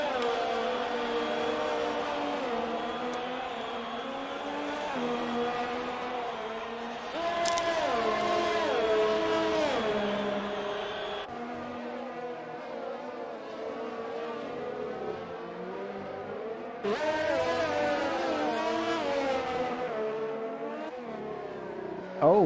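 Formula 1 race car engines in F1 2020 at the Hungarian Grand Prix, a high, whining roar that rises and falls with gear shifts and revving, loud and continuous throughout.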